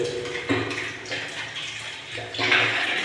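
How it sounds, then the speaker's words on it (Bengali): Hot water runs from a hotel bathroom tap in Gangtok, a close splashing gush that swells and fades in waves and grows stronger near the end, with no voices. "এবার কলটা চালু করুন। একটু ওয়েট করুন, দেখুন গরম জল বেরোচ্ছে।"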